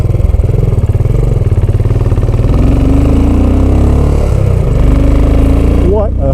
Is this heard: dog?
no